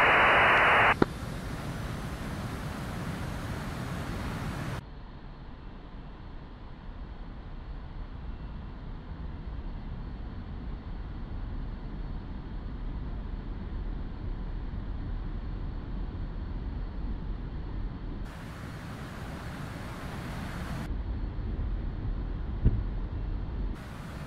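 An A-4 Skyhawk jet at full throttle on takeoff in the DCS flight simulator game, a steady, loud broadband engine roar that continues for about twenty seconds, with radio-like static bursts at the start and near the end.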